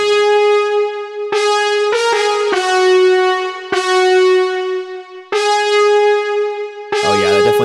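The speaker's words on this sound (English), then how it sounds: "sounds like some synth brass" Synth brass sample in a pop production context: sustained bright brassy chords with rich harmonics, several held stabs changing every second or so, loud and close with no voices over them.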